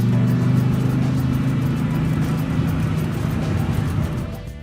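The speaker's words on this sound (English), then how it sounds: "The first MetaHuman to drive a car under Lady Liberty!" A car from the Unreal Engine 5 vehicle template drives under the Statue of Liberty, its engine giving a steady, loud low hum that holds throughout and eases slightly at the end, with no talking.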